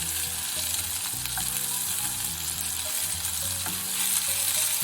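Monkfish frying in a pan, a loud, dense sizzle and crackle running steadily throughout, close up, with faint scraping movement and no voices.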